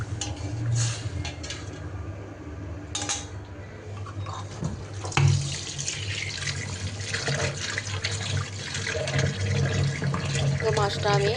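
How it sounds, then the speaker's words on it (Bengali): Water rushes and splashes into a cooking pan of fried spice paste for hilsa dopeyaja, a steady close pour with shifting gurgles and a faint voice in the background. "এখন আমি পানি দিয়ে দিব।"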